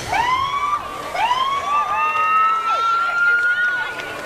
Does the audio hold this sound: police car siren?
yes